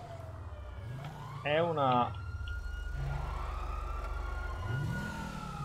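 Police siren in GTA V Online, a rising and falling wail that comes and goes at moderate distance under game engine rumble, with someone speaking Italian briefly over it.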